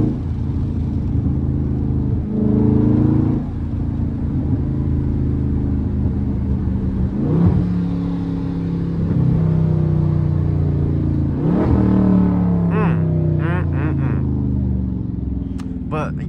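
Dodge Charger Scat Pack 392 V8 rumbling and revving hard during a drift, a continuous loud engine roar with rising and falling pitch, plus brief squeals near the end.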